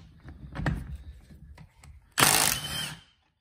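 Loose clattering and knocks are followed by a short, loud burst from an 18-volt Milwaukee impact wrench set to 120 foot-pounds, lasting about a second, close up.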